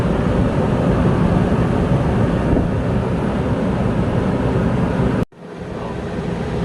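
Steady rush of air from a running Advent 15k RV air conditioner, a constant broadband blowing hiss that cuts off abruptly near the end, leaving a brief quiet before faint noise returns.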